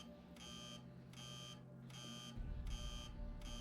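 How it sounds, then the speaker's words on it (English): A broken pump in the video game Tin Can sounds a steady, repeating electronic alarm, evenly pulsed beeps over a humming background that deepens partway through, with no talking. "This is just going to aggressively beep at us for a moment."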